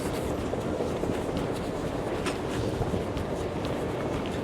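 A Marmaray commuter train in Istanbul rumbles steadily close by, with a continuous low roar and faint rhythmic clicks, heard on its own without talk.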